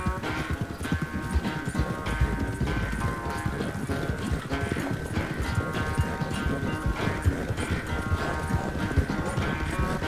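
Steady, rapid clip-clop of horse hooves in the video game Red Dead Redemption 2 runs throughout over a dense, busy background with a faint sustained tone.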